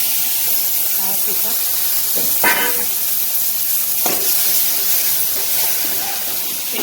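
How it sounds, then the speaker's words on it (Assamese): Fish fries in hot oil with a loud, steady hissing sizzle, near and constant, while a voice speaks briefly over it and faint clinks come and go. "মাছৰ তেলখিনি ভাজি হৈ যাব"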